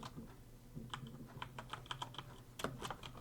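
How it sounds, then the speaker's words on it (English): Typing a title on a computer keyboard, with quick irregular keystroke clicks in bursts over a low steady background hum, close and moderately loud. "So I will select the text tool, and I'm going to come down here and click and type Edward"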